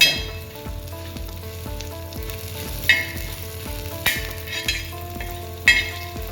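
Garlic fries in a pan with coriander seeds, fennel, cloves, peppercorns and a piece of cinnamon, giving a loud steady sizzle punctuated by a few sharp clinks of a spoon against the pan.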